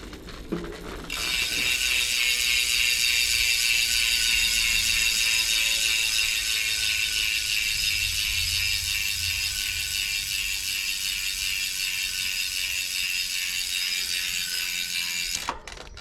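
Rapid, continuous buzzing tick of a DT Swiss XR 1700 freewheel ratchet on a 2022 Lapierre XRM 8.9 mountain bike as the wheel coasts, loud and close for about fifteen seconds before stopping abruptly.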